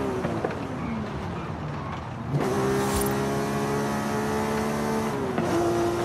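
A race car engine in Forza Horizon 5 revs and climbs through the gears on an H-shifter setup, with pitch falling at each shift before rising again, close and steady.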